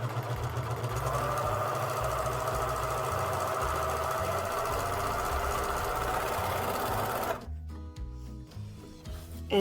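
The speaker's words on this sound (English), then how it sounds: "So we're going to line up on the edge here and serge." A serger runs along the bottom edge of fabric with dark thread, buzzing steadily and fairly close for about seven seconds before stopping abruptly, leaving quiet with faint clicks.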